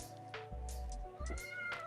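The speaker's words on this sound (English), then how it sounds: "It's the cat." A house cat gives a few short, close meows and chirps in quick succession, fairly quiet against a steady indoor hum.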